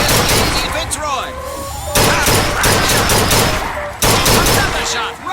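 Gunshots at a carnival shooting gallery in the video game Bioshock Infinite: sharp, loud shots at roughly two-second intervals, each followed by ringing decay and mechanical clatter, with a voice talking between them.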